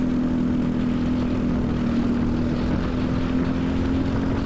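LO206 racing kart engines in a rain-day Masters/Heavy prefinal race give a steady, unbroken droning buzz with a constant low hum, heard close up from on board.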